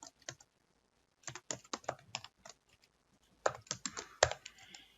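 Fingers type on a computer keyboard in quick bursts of crisp clicks, separated by short pauses, close and clear with no talk over them.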